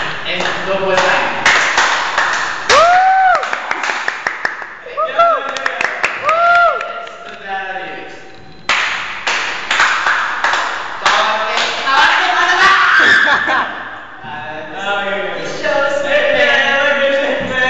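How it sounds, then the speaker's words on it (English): Quick hand claps in a brisk double-time rhythm, close and sharp, mixed in with singing and other voices throughout. "This is the clapping hands move."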